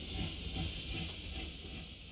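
Steam hisses from the Steam Tank Obsidian, a steam-powered train boss in the Octopath Traveler video game, forming a loud, steady breathy rush over a low rumble that lasts the whole short moment.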